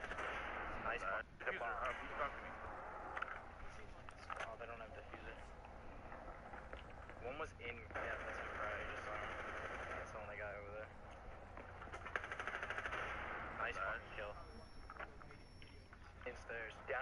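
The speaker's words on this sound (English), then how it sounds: "It's a machine gun." Automatic gunfire from a machine gun in a video game, dense, rapid and sustained through most of the stretch, with voices mixed in.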